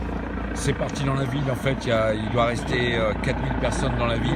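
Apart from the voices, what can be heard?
police helicopter flying overhead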